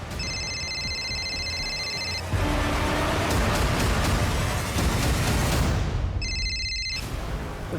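A mobile phone rings after its number is dialed during a police search near a burned body. Bursts of electronic ringtone come and go over a dense, rumbling noisy background, with a louder crash-like surge in the middle.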